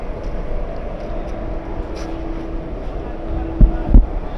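The Haldibari Express standing at platform two of Bolpur Shantiniketan station: a loud, steady low rumble with a faint tonal hum, and two heavy clunks near the end.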